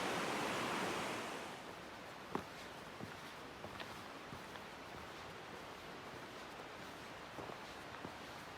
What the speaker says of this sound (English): This is the Similkameen River.